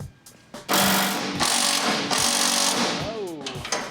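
Nearby, a power tool whines and rattles in loud, sustained bursts as bolts are backed out during a truck frame teardown in a shop, with a falling whir as it winds down near the end.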